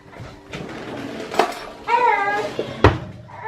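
Cake being set out on a plate for a protein bowl cake, with clinks and knocks of dishes and utensils, a few sharp contacts close by, and a brief child-like vocal sound in the middle.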